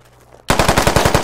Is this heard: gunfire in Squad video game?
yes